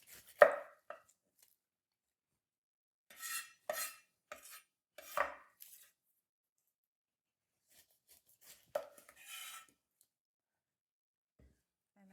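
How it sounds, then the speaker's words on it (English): A knife chops through a pineapple on a board in short clustered bursts of crisp thuds, separated by quiet pauses, close and clear with no talk. "I'm going to start by cutting my pineapple."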